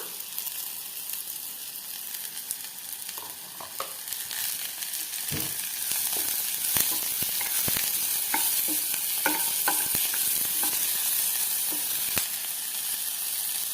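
Sliced capsicum stir-fried with browned onions in a pan gives a continuous sizzle, with irregular scrapes and clicks of the spoon growing busier partway through, close and fairly loud.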